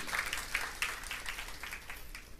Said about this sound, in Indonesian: Berikan tepuk tangan ya buat Tuhan Yesus.